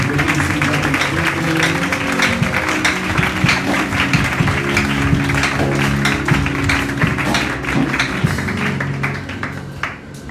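A church congregation claps loudly and steadily after a prayer, with dense overlapping hand claps filling the room and a musical tone underneath. The applause eases slightly near the end.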